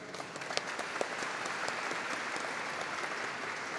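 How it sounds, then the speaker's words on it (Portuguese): Audience applause at a formal swearing-in ceremony for a regional council, steady dense clapping filling the room with a few sharper individual claps standing out. "peço a salva de palmas"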